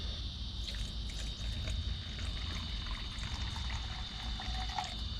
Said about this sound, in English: just gonna pour a pretty good amount of water in there